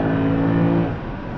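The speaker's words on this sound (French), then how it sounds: "Le petit bruit aigu là des AMG" A Mercedes C63 AMG Pack Performance V8 revs up to around 5000 rpm with a steady high-pitched whine over the engine drone, close and loud, fading off near the end.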